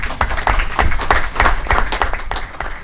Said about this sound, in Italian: però un applauso si può fare